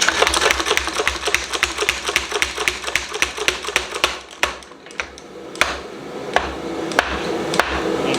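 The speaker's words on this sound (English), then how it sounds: "Now you don't have to use a power hammer to do this, but if you have one," Rapid, loud power hammer blows pounding hot metal from a gas cylinder, made into a bell, in a fast steady rhythm, pausing briefly before resuming with slower, spaced strikes.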